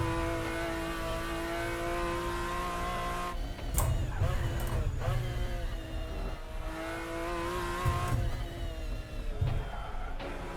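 A McLaren F1 GTR racing engine in a sim racing game at Goodwood Circuit, revving hard with loud sustained harmonic drone. Pitch climbs and drops sharply as it shifts gears and the driver lifts off and floors it again.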